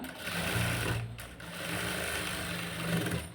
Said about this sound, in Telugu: ఇలా మనం దీని పక్కనే స్టిచ్చింగ్ అనేది చేసుకోవాలి